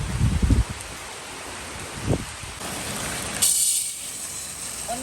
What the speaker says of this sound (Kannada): ಮಳೆ ಕೂಡ ಬರ್ತಾ ಉಂಟು.